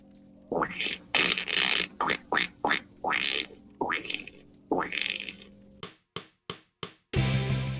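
A string of raspy duck quacks, a dozen or so short honks in uneven rhythm, loud and close, ending in a few sharp clipped bursts.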